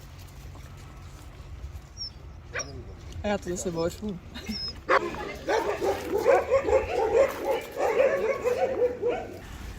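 A five-month-old puppy, hit by cars in the past and left with crooked teeth, whimpers in high thin yips and then barks in a quick run. A person talks over the later barking.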